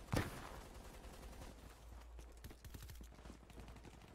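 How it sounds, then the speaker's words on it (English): Gunfire in Battlefield V, a first-person shooter: a sharp close shot followed by a scattered run of quieter distant shots and rapid bursts, faint overall. "Our guys keep shooting each other."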